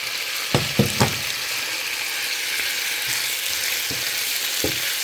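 Chicken gizzards frying in a pan with browned garlic and onion, a steady bright sizzle with a few sharp clicks and scrapes of stirring, close and alone.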